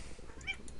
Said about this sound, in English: Let's see if I get this cat out of the way.